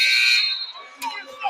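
A loud, steady electronic buzzer sounds at a college women's basketball game between Tuskegee and UAH, holding its tone briefly before cutting off as crowd noise and voices continue.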